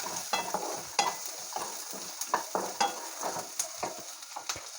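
A spatula scrapes and stirs onion, peanuts and turmeric in a pan for kande pohe, a sequence of quick rhythmic scraping strokes over a soft sizzle, close and fairly quiet.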